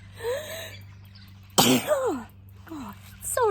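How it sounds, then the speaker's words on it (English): A single sharp sneeze bursts out indoors, framed by a woman's speech before and after it over a faint steady hum. "Sorry, I'm going to sneeze."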